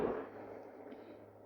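A single sharp rifle shot from a .257 Weatherby loaded with 70.5 grains of Reloader 22 cracks once, then fades quickly into a faint decaying tail.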